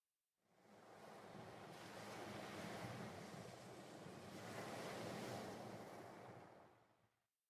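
Ocean waves wash onto the shore in the video game Far From Noise, a soft, continuous surf that swells twice, fading in and out with no voices.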